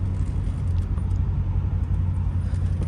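A C7 Corvette rolls slowly through a parking lot in winter, its engine a low, steady rumble heard from inside the car with constant road and cabin noise throughout.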